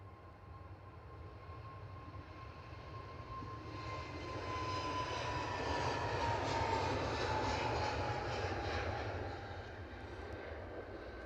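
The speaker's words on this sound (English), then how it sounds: "Lined up, ready to go. Off to Bristol in this A320 Neo." Airbus A320neo taking off from Edinburgh airport for Bristol: steady jet roar that builds and peaks mid-clip with a whining tonal note, then eases slightly, heard from a distance with no talking.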